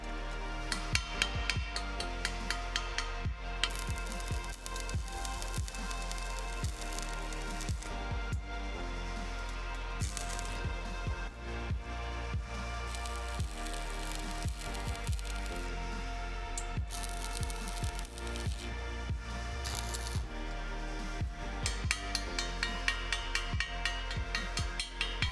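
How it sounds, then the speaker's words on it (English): A hammer chips at fresh steel welds on a DIY footstool frame, giving a dense, continuous run of sharp metallic taps and scrapes that goes on steadily for the whole stretch, with no talking. "I chipped at it with a hammer"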